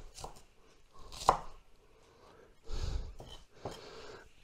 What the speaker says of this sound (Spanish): Vamos a cortar fina